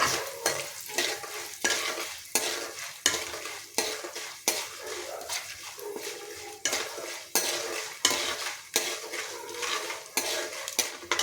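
Dried chillies and curry leaves tempering in oil in a pan, a steady sizzle and fry broken by frequent rhythmic scrapes and clinks of a spoon stirring against the metal.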